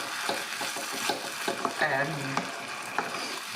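Minced beef cooking in a pan with a steady low sizzle, while a utensil stirs and scrapes through it in a few light, irregular strokes, close by and with no talking.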